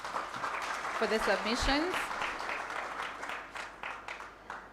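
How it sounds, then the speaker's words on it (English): Applause for panelists at a career fair, a moderate round of clapping that carries on under a voice speaking over it, with some sharper claps standing out toward the end. "Friends, join me in giving them a thunderous hand clap"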